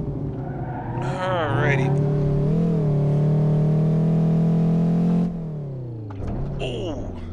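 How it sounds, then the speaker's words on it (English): An Ibishu Kashira ZX 3.5 AWD in BeamNG.drive launches off the line, its engine climbing sharply to a loud, steady high-rev drone before suddenly dropping off, with a brief voice near the start. "Put it in first in 3, 2, 1. Pop the clutch, and away we go."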